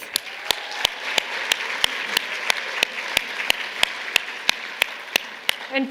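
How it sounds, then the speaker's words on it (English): Audience at a National Women in Roofing event applauding, a dense wash of hand claps with sharp regular accents, sustained and steady throughout. "Huge round of applause for our 4 MVPs."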